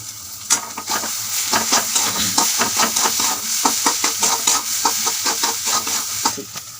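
Egg bhurji fries and crackles in a hot pan while a spatula scrapes and stirs it in a quick, uneven rhythm, close and clear, with no talking.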